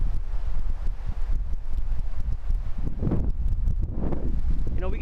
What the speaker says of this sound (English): Very windy coming off of the lake there.